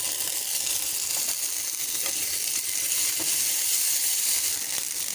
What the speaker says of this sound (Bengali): মোটামুটি একটু পেঁয়াজটা ভাজা হয়ে গেছে, এর মধ্যে আমি দিয়ে দিচ্ছি রসুন বাটা